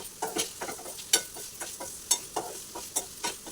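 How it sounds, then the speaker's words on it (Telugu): Masala and salt stirred into a biryani mixture in a pan, with rhythmic scraping and clinking spoon strokes every second or so over a soft frying sizzle, heard close. "మసాలా అండి తగినంత ఉప్పు అండి తగినంత వేసుకుని కలుపుకోవాలండి"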